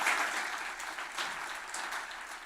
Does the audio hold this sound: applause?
yes